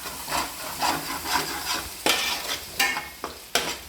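Food frying and being stirred in a pan, with rhythmic scraping strokes over a constant sizzle, close and fairly loud, with a few sharper clatters toward the end and no voices.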